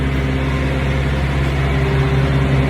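Reefer unit running on a refrigerated semi-truck trailer, a loud, steady droning engine hum with a constant low rumble and no change in pitch.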